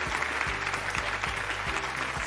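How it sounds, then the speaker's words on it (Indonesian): Audience applause in the studio of an Indonesian children's talent show, with dense steady clapping at full level across the whole short stretch and low rhythmic thumps beneath. "Yeay, tepuk tangan lagi dong."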